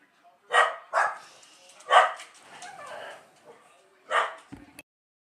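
Two pet dogs in a house bark in a few sharp, separate bursts, fairly close but moderate in level, with quiet gaps between them.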